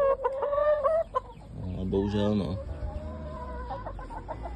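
Chickens kept in a polytunnel cluck and call with short, fairly close repeated clucks, while a person talks over them at times.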